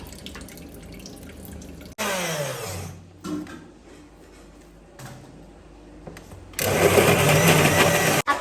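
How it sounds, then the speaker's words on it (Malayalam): Boneless chicken is ground in a kitchen mixer grinder: two loud whirring bursts, one short and one longer, with quieter handling noises in between. "ഇത് നമുക്കൊന്ന് മിക്സിയിൽ കറക്കിയെടുക്കാം"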